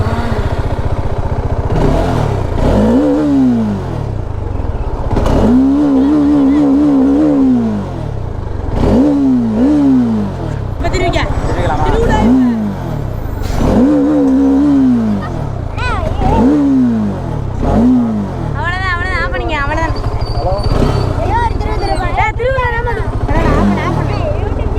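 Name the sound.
motorcycle engine running and revving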